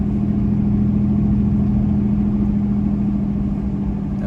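Dodge Dakota pickup truck engine running steadily while driving, a constant low drone with a steady hum, loud and close, no voices.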